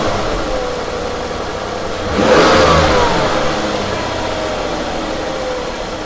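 A Ford Escape engine with a high-idle fault (P1506) revs up briefly in a short burst, then settles straight back to a steady, even idle hum, close and fairly loud, with no voices.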